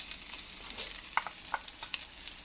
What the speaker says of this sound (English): You're going to stir fry the garlic a little bit.